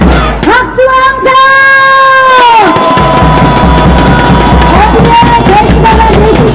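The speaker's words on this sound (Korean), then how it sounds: "박수와 함성!" Large outdoor rally crowd cheering and shouting at high volume, with long sustained tones from a loudspeaker or horns sounding over the roar.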